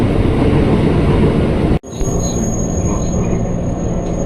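A JR 205 series KRL commuter train pulls into Pasar Minggu station, a steady loud rumble of wheels and carriage with a thin high squeal, broken by one brief sharp dropout before the rolling noise resumes.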